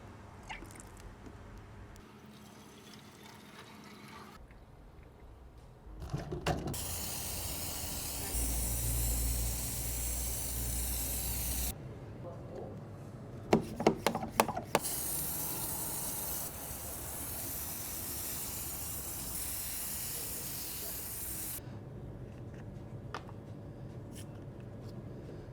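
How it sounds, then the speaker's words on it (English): A Wurth foaming pump bottle spraying Ultra Foam Wash, heard as two long, steady hissing sprays separated by pumping clicks and handling noise, fairly close and with no talking. "let's go and have a look at the Ultra Foam Wash and the foaming pump bottle in action"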